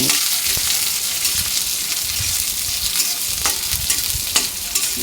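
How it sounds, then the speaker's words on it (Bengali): Two chopped onions frying in a pan make a loud, continuous sizzle and crackle up close, with occasional scrapes and pops from stirring and no voices. "এবার পেঁয়াজ কুচিটা ভালো করেই কিন্তু ভেজে নেব আমি"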